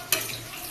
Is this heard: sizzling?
yes